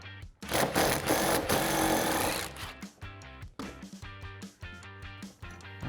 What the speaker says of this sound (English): So what I'm gonna do is use this impact gun.